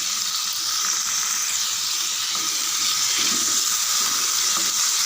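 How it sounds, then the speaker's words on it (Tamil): Tomatoes and curry leaves sauté in a pan with a steady, loud sizzle and hiss that runs unbroken throughout, with faint stirring scrapes mixed in. "இது கூடவே கொஞ்சம் கருவேப்பிலையும் சேர்த்து வதக்கிடலாம் ஃப்ரெண்ட்ஸ்"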